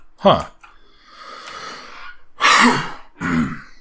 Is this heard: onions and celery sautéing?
no